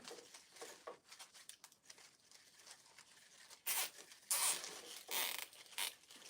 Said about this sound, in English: Zip tie it here as well.